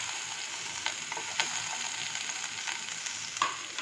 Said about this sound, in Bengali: ফ্রাইং প্যানে তেল দিয়ে দিয়েছি, একটু পেঁয়াজ কুচি দিয়ে দিচ্ছি, সঙ্গে কাঁচা লঙ্কা দিয়ে দিচ্ছি।